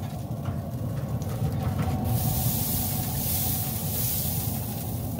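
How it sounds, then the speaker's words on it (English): Spray bottle spritzing water onto a Mangalitsa pork brisket on a Weber smoker, a close hissing mist that starts around midway and continues steadily over low background rumble. "Time to spray our pork brisket."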